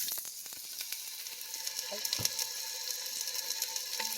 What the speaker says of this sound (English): So I got a little bit of oil in my Dutch oven. And I'm throwing my onion in there.